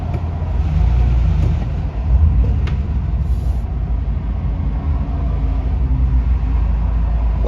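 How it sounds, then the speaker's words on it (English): Steady low road rumble and engine drone heard from inside a van stuck in traffic, continuous and fairly loud with no talking. "deal with this fucking traffic."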